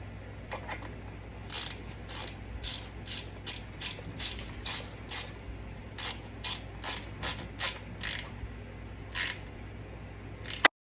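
A hand ratchet clicks in repeated quick bursts while tightening bolts on a Predator 212 fat-tire motor bike, the steady ratcheting rhythm continuing for several seconds over a low background hum, with no talking.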